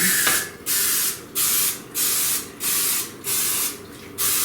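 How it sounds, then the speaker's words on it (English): Repeated short hissing bursts from a non-stick cooking spray can onto the wells of a donut pan, about seven quick sprays in a steady rhythm, close and fairly loud. "take a non-stick spray, any type you want, and you're going to spray the wells of your donut pan"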